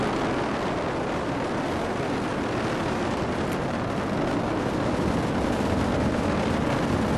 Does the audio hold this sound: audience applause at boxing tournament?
no